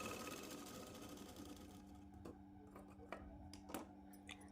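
A sewing machine runs steadily while double-stitching the shoulder joints of a Punjabi dress with a half-inch margin, its motor hum continuous and close, with a few brief clicks near the end.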